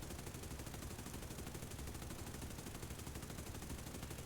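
Dense, continuous machine gun fire from the guns of a B-24 bomber in a combat flight game, a steady rattling burst that runs unbroken through the whole stretch at a fairly constant level.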